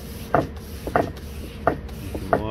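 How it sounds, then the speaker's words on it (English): Fine wet sanding at 800 grit through paint over aluminum on a C-47 model aircraft, heard as four or five short, soft rubbing strokes in an even rhythm, close and quiet with no voices. "we'll sand that through to get our weathered effect."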